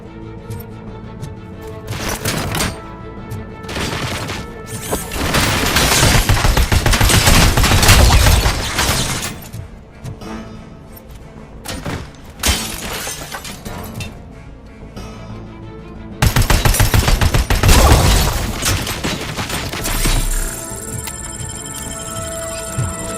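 Dense bursts of rapid gunfire from a RoboCop video game, loud and close, with sustained automatic volleys separated by brief pauses and a few heavier booming hits.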